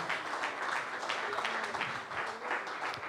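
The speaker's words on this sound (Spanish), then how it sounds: "Dele ese aplauso al Señor." A church congregation applauding together during a Spanish-language worship service, a dense continuous wash of many hands clapping at steady level throughout.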